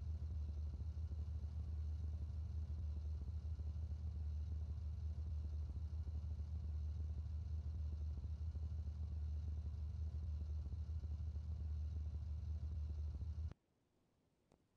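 Steady, loud car engine drone from the BeamNG.drive driving game, a continuous low rumble holding for about thirteen seconds before cutting off abruptly into near silence.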